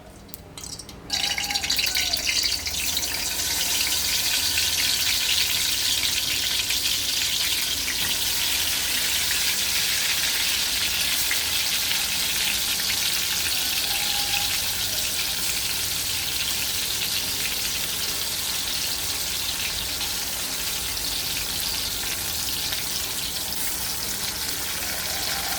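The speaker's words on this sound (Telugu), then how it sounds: "ఇప్పుడు వంకాయలు అయితే వేసుకున్నాం. ఆయిల్ కొంచెం ఎక్కువ వేసుకోండి. వంకాయ ఆయిల్లో మగ్గితేనే చాలా టేస్ట్గా ఉంటుంది." Eggplants fry in oil for guthi vankaya curry, a steady, loud hiss and sizzle that holds evenly from start to finish after a brief clatter at the beginning.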